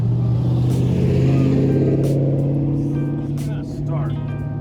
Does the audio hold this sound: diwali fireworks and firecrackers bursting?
no